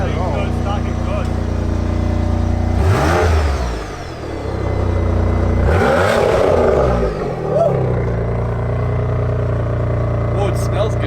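A stock 2002 Subaru WRX engine idles and is revved twice, each rev rising sharply then falling back to a steady idle, with people talking nearby.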